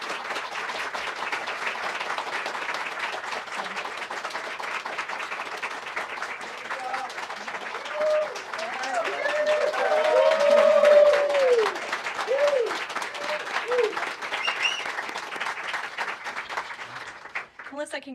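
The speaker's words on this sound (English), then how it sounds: "You have the largest round of applause I've ever heard in this room." Long, sustained applause in the White House press briefing room for a retiring news photojournalist, with many hands clapping steadily, swelling louder midway, and voices calling out and talking over it.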